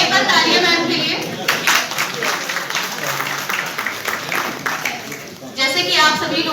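An audience at a cyber crime awareness event in Bareilly, India claps together in a sustained burst of applause that tapers and then swells again, with some voices mixed in.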